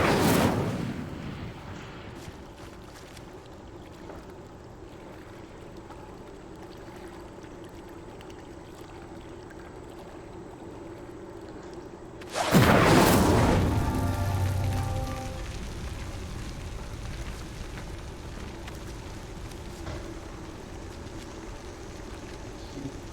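A fire spell ignites a pyre in a Harry Potter-style video game: a sudden loud whooshing burst of flame about halfway through, settling into a steady crackling roar over the quieter ambient hum before it.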